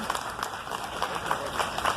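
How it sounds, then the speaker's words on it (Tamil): An audience at a construction company's logo launch celebration applauds, a steady patter of clapping from a crowded hall, moderately loud and continuous over a short stretch. "அதற்கு நம்முடைய அரங்கு நிறைந்த வாழ்த்துக்களை கைத்தட்டல் மூலமா தெரிவிச்சுக்குவோம்"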